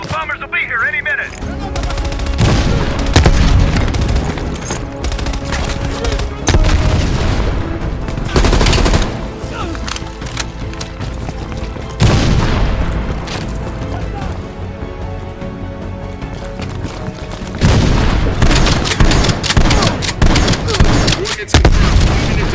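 Enemy machine gun fire in the Call of Duty Black Ops Cold War video game, long sustained bursts repeating in waves, loud and close, mixed with mechanical clatter and radio-style voices talking.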